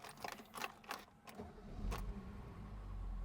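A few mechanical clicks and clunks, then the engine of a Mercedes-Benz W111 250 SE Coupe cranks and catches, settling into a steady low idle rumble that grows louder.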